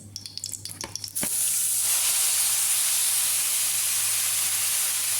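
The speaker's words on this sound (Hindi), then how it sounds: "तो पहले मैं घी पिघलने, अब मैं इसमें डालूँगी 1 किलो।" Carrots tipped into hot melted ghee for gajar halwa set off a sudden loud, sustained sizzle and hiss after a few brief clattering knocks, continuing steadily up close.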